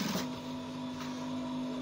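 A sewing machine stitches down a button-down shirt with a notch collar, giving a steady, close mechanical whir with a constant motor tone that holds for the whole stretch after a brief louder start.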